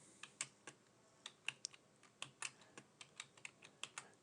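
Computer keyboard typing a command: crisp individual keystrokes at an uneven pace, close and distinct, each click standing alone against near silence with no voices.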